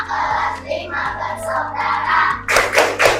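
Schoolchildren in a fifth-grade class do a rhythmic clapping ice-breaker chant, their voices singing along over a steady pattern of hand claps that swell into a louder burst of clapping near the end.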